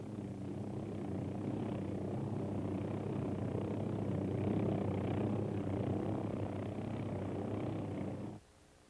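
An OH-6 light helicopter holds at a hover before takeoff, making a steady, loud, continuous rotor and turbine roar that cuts off sharply near the end.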